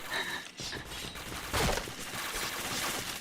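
Rapid gunfire bursts in a first-person shooter game fill the whole stretch, with a louder burst near the middle, dense and continuous at close range.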